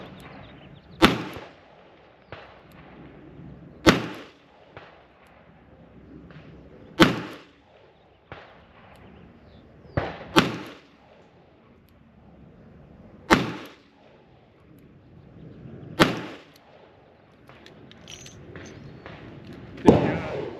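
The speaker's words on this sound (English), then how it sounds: "We're going to shoot a double action." Six double-action shots from an old S&W Model 10 revolver, sharp isolated bangs spaced roughly three seconds apart, heard from a distance with muffled quiet between them.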